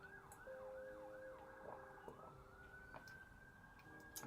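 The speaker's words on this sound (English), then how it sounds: "can you guys hear the siren outside?" An emergency siren wails outdoors at a distance, cycling up and down in repeated sweeps before settling into a long steady tone, faint and heard from indoors.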